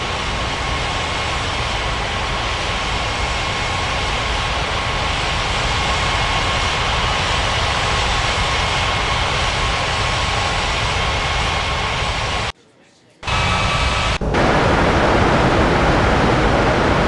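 A landing airliner engine in Unmatched Air Traffic Control, a loud continuous broadband roar holding steady, cut by a brief dropout near the end before resuming.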